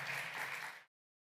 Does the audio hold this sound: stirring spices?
no